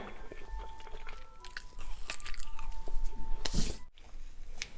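Biting and chewing a sugar-coated snack, with crunchy bites and chewing noises up close and a brief voice under them.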